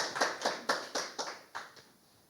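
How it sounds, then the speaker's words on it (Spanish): A church congregation claps in praise during a worship service, about eight distinct, evenly spaced claps fairly close and clear, slowing and fading at the end with no talk over them. "demos un fuerte aplauso a nuestro Señor"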